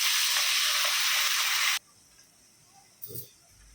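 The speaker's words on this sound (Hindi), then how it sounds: "अदरक लहसुन का कच्चापन जाने तक अच्छे से उसको भूनेंगे।" Ginger and garlic frying in a pan for a stuffed eggplant dish, a loud dense hiss that cuts off abruptly, followed by near quiet and a short clatter.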